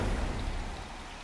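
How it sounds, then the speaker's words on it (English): Steady, loud rain from a storm in a video game, a dense hiss of falling water filling the whole moment with no voices. "This shit's raining. This shit be storming."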